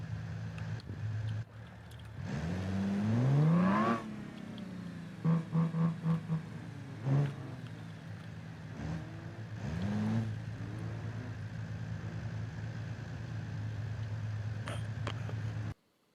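Car with a loud supercharger in BeamNG, whining engine rising sharply under acceleration and then settling into a steady drone with brief revving bursts, fairly prominent throughout.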